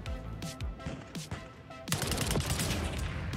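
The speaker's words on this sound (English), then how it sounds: "I did hear the shots to the right seem a lot louder" Rapid bursts of gunfire in a Call of Duty match, some shots closer and louder, building into a dense volley toward the end, with no speech.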